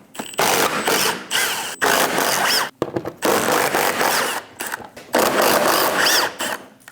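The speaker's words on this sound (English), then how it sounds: "Using a 10mm socket, we're going to go down the front of the bumper," A 10mm socket ratchet works loose the front bumper bolts on a Dodge Durango, giving loud, bursty mechanical whirring and clicking in several runs separated by short pauses, close up and without talk.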